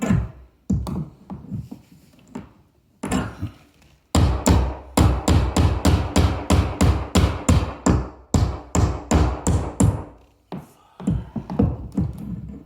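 Hammer striking a nail into a skirting board, first scattered single blows and then a fast run of steady, loud, close knocks that stops and starts again near the end.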